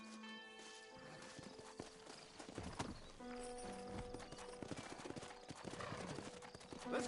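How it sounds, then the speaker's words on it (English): Horse hooves clip-clop steadily in the Red Dead Redemption video game, with an occasional whinny, over a busy game soundscape of music and ambient noise, building slightly louder near the end. "Horses are over here!"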